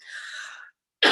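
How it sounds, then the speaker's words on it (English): Someone with a pollen allergy coughs during a yoga relaxation session: a soft, breathy cough, a short pause, then a sharper, louder burst. "So you might hear me coughing."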